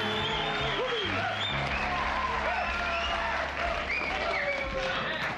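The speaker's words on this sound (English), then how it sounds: "Don't clap for me, San Fernando." Studio audience applause on a talk show with a guest: a continuous, fairly loud bed of clapping and crowd noise, with voices and laughter rising over it throughout.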